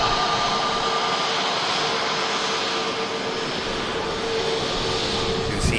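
An EasyJet jet taxiing at Manchester Airport, its engines giving a steady, broad roar that stays loud and even throughout, with a faint high whine over the top.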